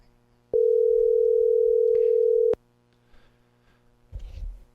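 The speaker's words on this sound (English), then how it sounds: "Dial his phone, and let's see if it's here." A steady telephone dial tone sounds for about two seconds while a call is being placed during a radio show, then cuts off abruptly, followed by faint clicks and low rumbling handling noise.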